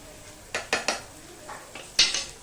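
A utensil scrapes and clacks against a pan in a few separate strokes while onion is sautéed with dry gram flour, heard close and alone.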